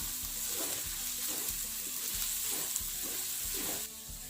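Vegetables and chicken sizzle and fry in a pan for chicken noodles, a steady close hiss broken by repeated stirring scrapes, with no talk.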